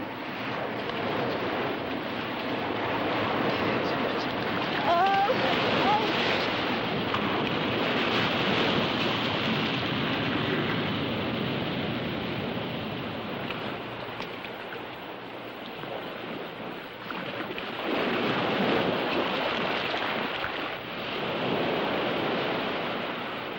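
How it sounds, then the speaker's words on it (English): Incoming tide washing in fast along a shore, a steady broad rush of surf that swells and recedes gently over about twenty seconds, with no voices. "The tide is coming in fast."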